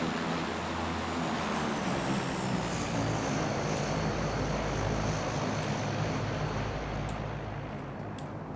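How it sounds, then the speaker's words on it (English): A bomber plane passes overhead in PUBG, a steady, loud propeller-engine drone that holds evenly for the whole stretch with no talk over it. "Oh, that's a bomber plane."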